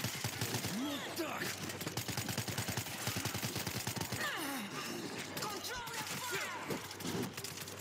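Rapid automatic gunfire rattles in the World War Z zombie shooter game, dense bursts of shots running steadily throughout, with players talking over the din.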